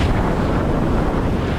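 Rough cold wind and angry waves on the North Sea off the Shetland coast, a loud continuous roar of gusting wind buffeting the microphone over the wash of water.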